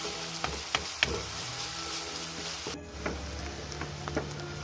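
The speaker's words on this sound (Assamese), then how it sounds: "এইখিনি মই ৰঙা হোৱালৈকে ভাজি থাকিম" Ingredients for a chicken curry fry and sizzle steadily in a pan, browning before spices go in, with sharp scraping stirs and clinks of a utensil against the pan, close and without speech.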